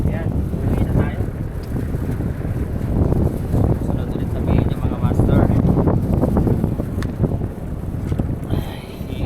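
Wind buffets the microphone at the shore during shore casting, a steady loud rumbling roar that runs through the whole stretch with gusty swells.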